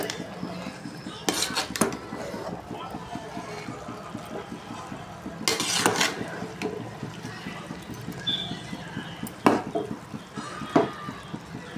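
Biryani ingredients are mixed with food colour in a pot: a spoon scrapes and clinks against the metal in uneven bursts over a low steady background, fairly close and moderately loud.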